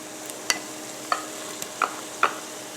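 Minced garlic sautéing with peppers and onions in a pan, heard as a faint steady sizzle broken by a few sharp scrapes of stirring spaced about half a second apart.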